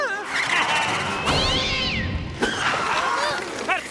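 Cartoon cat meowing and caterwauling in rising and falling wails, loud and close over a busy animated soundtrack, with a voice speaking in between.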